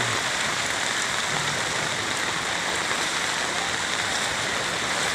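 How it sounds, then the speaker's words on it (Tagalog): Heavy rain pours down in a dense, continuous hiss, loud and close, with no pauses or voices. "isang oras pa lang ang ulan"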